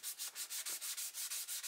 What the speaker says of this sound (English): I sanded off any excess filler while leaving the filler that's down in the pores